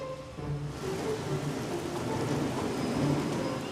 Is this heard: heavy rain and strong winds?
yes